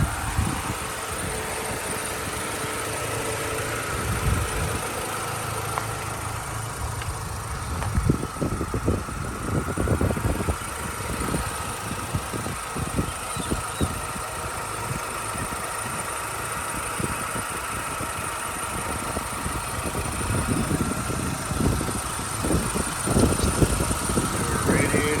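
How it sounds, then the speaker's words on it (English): A 2004 Mini Cooper engine idles steadily with its cooling fans running, a continuous close whirring drone with a low rumbling undertone throughout. "Here are the fans running."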